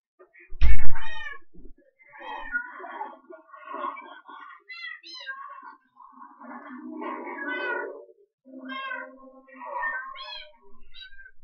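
A cat in the Minecraft video game meows repeatedly in short tonal cries, fairly close and moderately loud, opening with a sharp thud before a run of separate calls.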